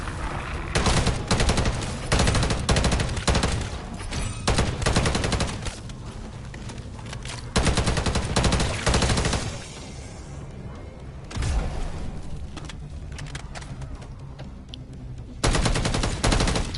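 Battle rifle fire in Modern Warfare Zombies, the weapon fitted with an aftermarket part: loud, rapid automatic bursts repeat in close succession, broken by brief lulls of quieter game ambience.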